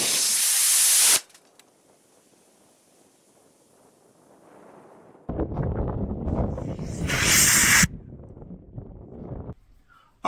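A PVC sugar rocket motor with a large fuel cell and a number 20 nozzle is test fired outdoors and blows apart. A loud, short roaring burst comes first, then a quiet gap, then a harsh, sustained roar lasting several seconds before it cuts off.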